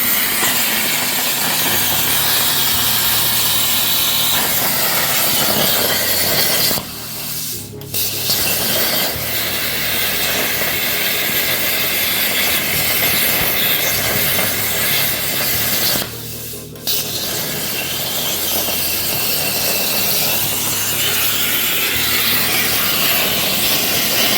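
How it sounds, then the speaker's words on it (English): A plasma cutter set to 46 amps at 65-70 psi cuts through metal for a small branding iron, a loud steady rushing hiss held for long stretches, broken by two brief stops. "Plasma cutter here. We got it at 40 amps. I'm gonna put it at 46 for right now."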